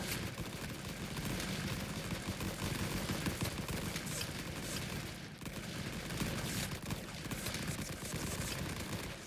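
Dense, continuous gunfire rolls through World War I trench fighting in the video game Rising Front, with a steady wash of rifle and machine-gun fire heard without a pause for several seconds and no talking.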